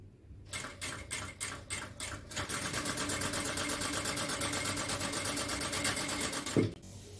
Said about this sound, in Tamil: இந்த மாதிரி மடிச்சு தைக்கணும்